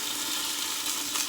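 Chicken pieces frying in a pan for arroz caldo, giving a steady, soft hiss and crackle that fills the short stretch evenly, with no talking.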